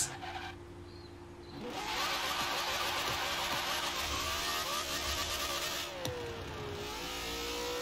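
Ford Mustang in Forza Horizon 4, driven on dirt, with an engine that builds from a quiet idle into a sustained, high-pitched revving whine, pitch sweeping up and down, with a brief sharp click near the end.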